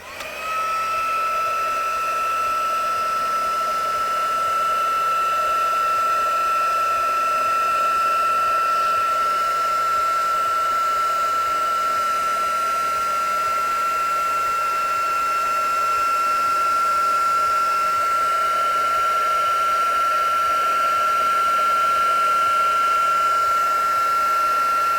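A heat embossing tool runs steadily for the whole stretch, a constant airy whine and hum as it melts embossing powder on text stamps, with no speech.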